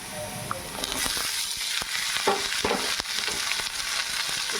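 Eggplant, green chilies and tomato sizzling together in a pan, a steady close-up frying hiss with regular knocks and scrapes as a spatula turns the vegetables.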